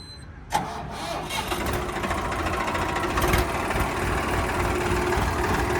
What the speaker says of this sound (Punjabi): ਸਟਾਰਟਿੰਗ ਚੈੱਕ ਕਰਿਓ ਟਰੈਕਟਰ ਦੀ